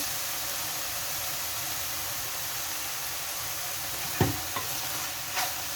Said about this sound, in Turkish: Şimdi şöyle karıştırıyoruz.